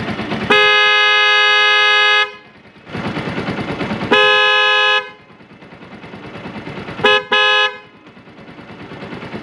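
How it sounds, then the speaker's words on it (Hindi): A newly installed dual tone car horn is sounded in loud, sustained blasts, two long honks followed by a short double toot, with an engine-like rumble in the gaps between. "तो अब इसका भी हम साउंड चेक करते हैं।"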